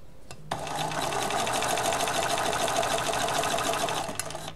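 Sewing machine stitching binding onto a cloth face mask on a folding table, running at a steady, moderate pace in one continuous burst of rapid needle clatter for about four seconds, close up with no talking.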